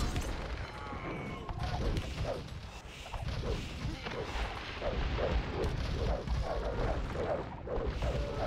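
Cannon galleons firing in an Age of Empires–style strategy game during a team match, a steady clatter of booms and crashes over a dense battle din, with the caster talking throughout.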